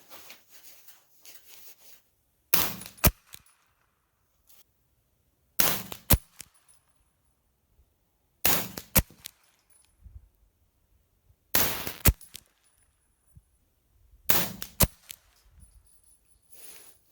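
Five suppressed shots from a 7-inch FM9 pistol-caliber carbine upper with a SilencerCo Octane 45 can, fired at 50 yards, come as muffled pops spaced roughly three seconds apart, each with a short metallic clack, with no talking.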